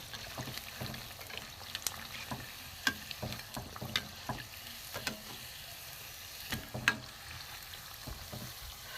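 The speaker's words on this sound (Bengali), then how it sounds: "একটু লাল করে কড়া করে ভাজবো" Battered vegetable chops deep-frying in oil over low heat until red and crisp, a steady close sizzle broken by sharp crackles and pops throughout, with no talking.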